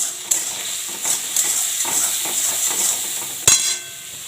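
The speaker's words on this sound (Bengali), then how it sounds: "এবার নাড়বো" Spoon stirring a prawn and bottle gourd curry seasoned with salt and turmeric in a pan, repeated scraping strokes over a soft sizzle, with a sharp metallic clank near the end; close and clear, no voices.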